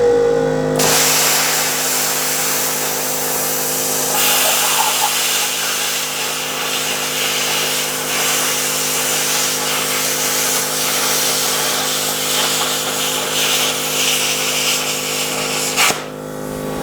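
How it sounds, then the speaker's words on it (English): A Firstess CT2050 plasma cutter slices through rusty quarter-inch angle iron, a loud, steady hissing roar with a constant hum that holds for about fifteen seconds before cutting off. "Let's see how well the Firstess CT2050 will cut through this rusty old angle iron."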